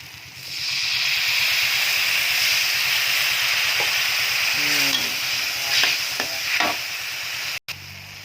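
Tamarind juice hits a hot pan and sizzles in a steady bright hiss, with scraping stir strokes breaking through near the end and a brief cut before it resumes.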